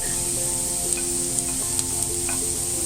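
Garlic sautés in a pan for vegan bagoong, a continuous close sizzle with a few light scrapes and taps from a stirring utensil, and no voices.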